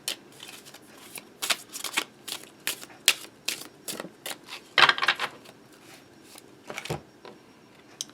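Slippery oracle cards shuffled by hand, with rapid, close riffling bursts and soft flicks and taps repeating throughout, no talking.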